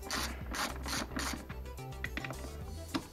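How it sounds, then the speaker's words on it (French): Ratchet wrench loosening the brake caliper mounting bolts on a car, quick close clicking ratchet strokes in short bursts with metallic scraping between them. "on va desserrer les deux boulons de fixation de l'étrier"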